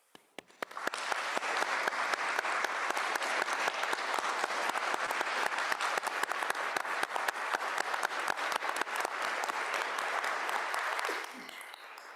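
Sustained applause from attendees at a board of directors meeting, dense steady clapping that swells in quickly and holds evenly for about ten seconds before tapering off near the end.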